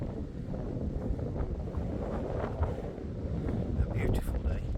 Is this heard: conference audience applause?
no